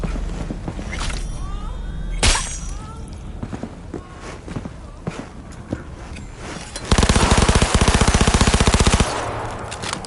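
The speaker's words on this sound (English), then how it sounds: "Heard shots." Gunfire in Cyberpunk 2077: scattered shots and thumps at first, then a loud, rapid burst of automatic fire lasting about two seconds before easing off.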